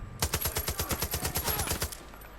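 Automatic gunfire in Far Cry 5, a single fast burst of about a dozen evenly spaced, loud, close shots that stops abruptly after two seconds.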